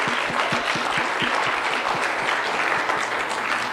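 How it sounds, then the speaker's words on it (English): Dense applause from an indoor audience at a Mental Health Week event, many hands clapping steadily and close for several seconds without letting up. "last round of applause"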